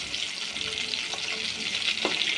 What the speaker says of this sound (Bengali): মাছের এক পৃষ্ঠে ভাজা হয়ে গিয়েছে, এবার অন্য পৃষ্ঠে ভেজে নিব